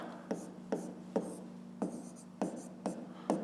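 Pen or pencil writing by hand on paper for a school math exercise, in a quiet room: a series of soft, regularly spaced scratchy strokes, about eight distinct bursts, close and faint.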